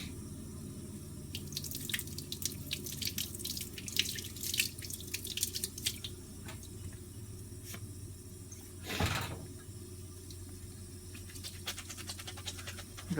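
A foam sponge filter from a clogged Panasonic upright vacuum cleaner is rinsed with a little soap under a running tap: steady splashing water with drips and squelchy scrubbing, a brief louder gush midway, close and clear.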